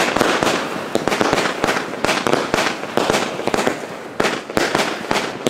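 Fireworks battery of 100 shots firing in rapid succession, a steady run of loud, sharp bangs and crackles close by with no pauses, filling the whole stretch.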